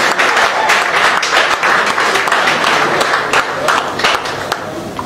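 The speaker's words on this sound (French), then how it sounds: "Est-ce qu'on peut l'applaudir très fort, s'il vous plaît, mesdames et messieurs?" Loud, sustained audience applause at an album presentation concert in Paris, dense rapid hand claps filling the room with scattered cheers, continuing steadily throughout.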